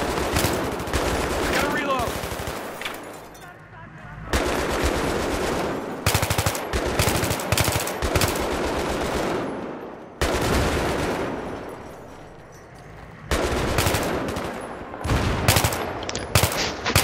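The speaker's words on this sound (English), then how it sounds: "I'm shooting at people." Loud machine gun fire in Battlefield 3, coming in long sustained bursts separated by short pauses, with heavy rattling fire over a busy battle background and some speech.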